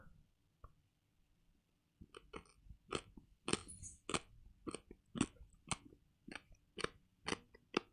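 Close, quiet chewing of a squishy, gummy Japanese snack, a short pause followed by a run of wet, sticky mouth clicks in an irregular rhythm with no talking.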